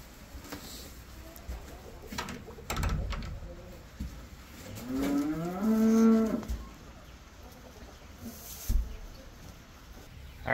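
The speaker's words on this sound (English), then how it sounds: "so we just got our cow, our baby calf." A young bottle-fed calf, about two weeks old, lets out a single drawn-out moo in the middle of quiet outdoor background noise, with a few faint knocks around it.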